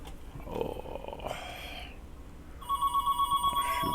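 A telephone rings late in the clip with a rapid, pulsing electronic trill that repeats about eight times, loud and close, after a stretch of indistinct background noise.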